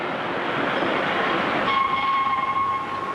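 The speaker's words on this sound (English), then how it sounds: "And there's a train coming." A train rumbles past close by, a loud steady roar of rail noise with a sustained horn-like tone sounding over it in the latter half, no voices.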